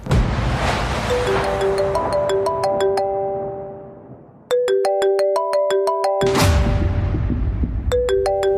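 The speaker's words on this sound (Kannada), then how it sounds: "ಮತ್ತೆ ಫೋನ್ ಮಾಡ್ತಾ ಇದ್ದಾನೆ." A phone ringtone plays loud and clear for an incoming call, a looping electronic melody of bright repeated notes that stops briefly and then starts again, with a surging swell of sound-effect noise rising under it.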